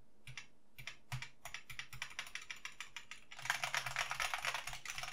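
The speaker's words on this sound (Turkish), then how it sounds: "Bir harfe basıyorum. Bastım." Keys on a wirelessly connected keyboard are pressed, first in separate close clicks, then in a quicker run of taps and a dense burst of rapid typing, quiet and alone.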